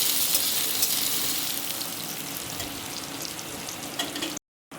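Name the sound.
stirring potatoes frying in a pan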